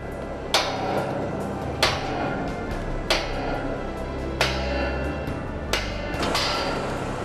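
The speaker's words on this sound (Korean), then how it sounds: "쾅쾅 두드려대는 망치 소리가 타워 크레인 상승 작업의 본격적인 시작을 알린다" Five heavy metallic hammer blows on a tower crane during a climbing operation ring out at steady intervals of just over a second, over a constant low mechanical rumble.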